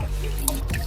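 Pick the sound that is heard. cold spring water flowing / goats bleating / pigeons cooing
cold spring water flowing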